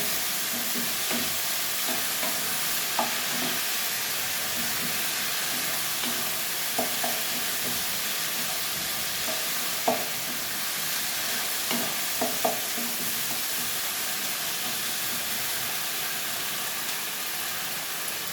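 Spice paste of coriander, chilli and garlic is stir-fried with mushrooms for mushroom masala, a constant loud sizzle broken by occasional scraping knocks of a spoon against the pan, close and without talk.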